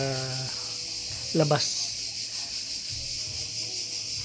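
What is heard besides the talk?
crickets chirping outdoors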